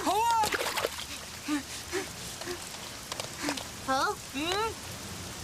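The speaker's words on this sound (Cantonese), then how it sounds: "我哋去便利店避一陣雨先啦" Rain falls outdoors on a street near a convenience store, a steady wet hiss running under voices that speak throughout.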